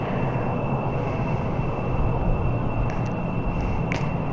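A cargo plane's engines in Kerbal Space Program roar in a loud, steady, unbroken drone, with a few faint clicks near the end.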